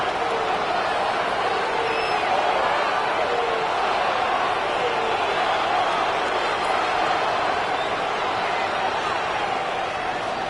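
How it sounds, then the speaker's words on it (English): A video-game stadium crowd in EA Sports NFL cheers as the Seahawks win at home, a dense, steady roar of thousands that holds at the same level throughout with no break. "several thousand 12th men and women cheering as the Seahawks win at home"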